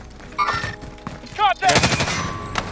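Gunfire in the video game Call of Duty Warzone: short bursts of shots and impacts in the near field, with a sharp, dense volley after a brief pause, mixed with game chatter.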